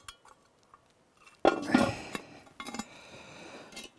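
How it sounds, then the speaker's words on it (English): A metal lid set back onto a cast-iron camp oven holding damper dough outdoors, landing with a sharp clatter and clank, followed by a few smaller rattles and scrapes as it settles. "Get the lid back on that."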